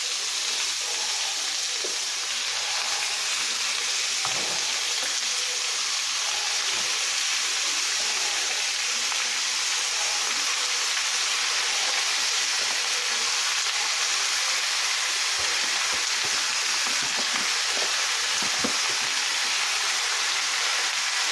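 Ground steak and carne asada taco meat cook down in a pot for homemade chili, giving a continuous even sizzle and hiss with faint scattered pops, no voices.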